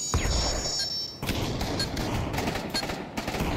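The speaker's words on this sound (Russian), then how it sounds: "Два выстрела прокинул." Gunfire in the VR shooter Pavlov VR during a competitive match, a rapid burst of sharp cracks followed by scattered loud shots and thuds, close and dense with no talk.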